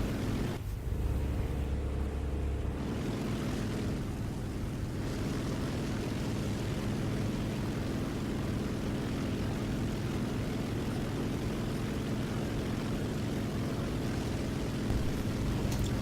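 A Ki-84 fighter's engine in War Thunder drones steadily and loudly throughout, a continuous low propeller roar with a brief deeper rumble near the start.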